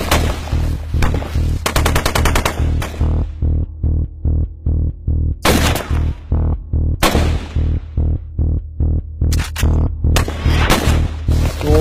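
Rapid automatic gunfire in an Indian Army combat scene, loud and close, coming in long rhythmic bursts of evenly spaced shots with brief pauses between them and no voices over it.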